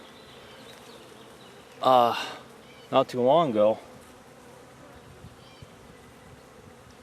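Honey bees buzz in a low, steady drone around a hive from new packages, under a brief stretch of a voice talking in short bursts.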